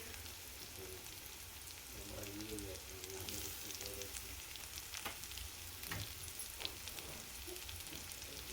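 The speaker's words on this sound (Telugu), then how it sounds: "పచ్చివాసన పోయేంత వరకు మంచిగా ఫ్రై చేసుకోండి" Seasoning sizzles and fries in a pan for a beetroot and chickpea curry, a soft, steady crackle with occasional scraping stirs and faint clinks, fairly quiet.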